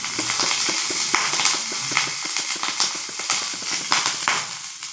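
Mustard seeds splutter and pop in hot oil in a kadai, a dense, close crackle of rapid irregular bursts over a continuous frying hiss.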